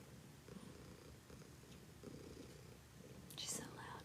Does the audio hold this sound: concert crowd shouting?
no